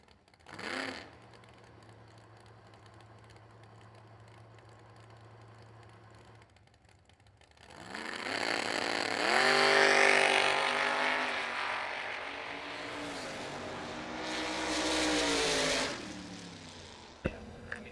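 Race cars launching at a dirt track, a Chevy II and a roadster, engines idling low, then surging into a loud rising roar that peaks and fades, with a commentator talking over it.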